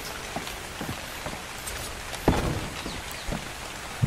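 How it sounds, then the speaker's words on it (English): Steady rain falls in the survival video game Ark, a constant hiss of drops with a few louder thuds now and then, heard alone without any talking. "I don't think I'm going to get my reservoirs down in time to catch this rain."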